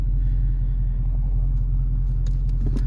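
A 2023 Dodge Challenger idles with a deep, steady engine rumble while held on the brake to warm up the tires, the low tone loud and continuous throughout with slight swells near the end.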